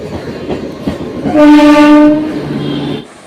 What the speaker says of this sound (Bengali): চলো ট্রেন ঢুকছে উঠে পড়ি